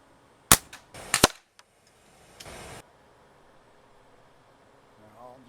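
A vintage Crosman 760 pump air rifle fires in a backyard with a sharp, close crack, followed by a few quick mechanical snaps and a brief rushing noise. A faint voice is heard near the end.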